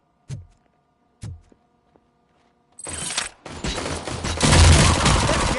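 Gunfire in the video game Robocop Rogue City: two isolated heavy shots, then a loud, sustained burst of rapid automatic fire with booming impacts, close and dense.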